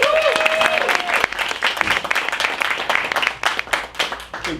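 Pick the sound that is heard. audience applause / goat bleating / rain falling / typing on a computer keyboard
audience applause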